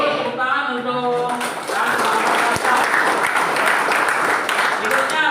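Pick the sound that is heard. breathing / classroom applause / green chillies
classroom applause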